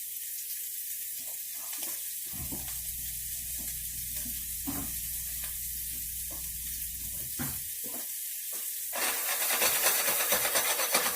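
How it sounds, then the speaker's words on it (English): Vegetables drop into a hot pan with a loud, steady sizzle that swells midway and keeps crackling, while softer clatter and a burst of brighter frying noise come in near the end. "We're going to drop our veggies straight in the pan."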